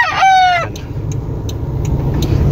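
A stag rooster crows once near the start, loud and close, with a rising-then-held call lasting about half a second, followed by quieter clucking and faint road traffic in the background outside a house.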